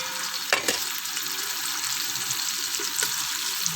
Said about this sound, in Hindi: फिर मैं इसमें दूसरे मसाले डाल के इसको अच्छी तरह मसाले को हमने भून लेना है